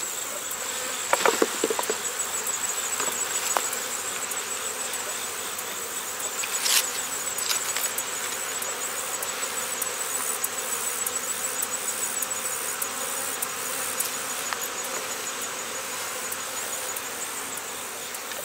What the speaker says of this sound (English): shake these bees off.